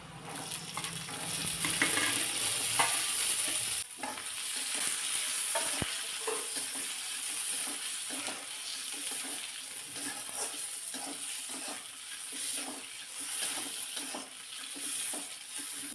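Field bean seeds tossed into hot oil with onion in a pan, a steady close sizzle of sautéing with occasional stirring clicks and scrapes, no talking.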